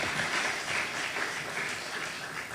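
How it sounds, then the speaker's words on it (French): Audience applause for the Saint Kizito de Sanoya and Saint Alexis de Kassonia choirs at an Easter celebration program, a steady, fairly distant wash of clapping that holds evenly throughout. "je vous demande d'applaudir, mesdames et messieurs"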